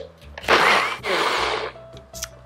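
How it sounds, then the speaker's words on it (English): A small blender with a blade attachment whirs loudly in two bursts, blending soaked cashews and water into a creamy vegan mac and cheese sauce, with a short pause between runs and no talk. "and just blend it until it's smooth."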